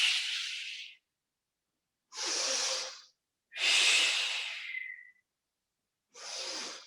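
Four slow, deliberate breaths during a Pilates exercise, close and quiet, each a soft airy exhale or inhale separated by short silences, the third longer and ending in a faint whistle.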